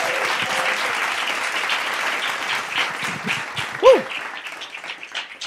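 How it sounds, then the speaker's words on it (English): Studio audience at a culture TV show claps and cheers in a loud, sustained round. A whoop rises partway through, and the clapping thins into scattered claps toward the end. "One more hand clap, you guys"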